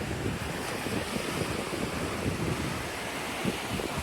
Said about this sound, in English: You can see there's a rim of rock that the waves are crashing over.